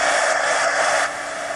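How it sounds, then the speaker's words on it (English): A heat gun blows a steady, hissing stream of hot air to dry mixed media art journal elements, a close continuous whoosh that softens slightly near the end. "Now I'm going to get the heat gun and dry all these elements real quick."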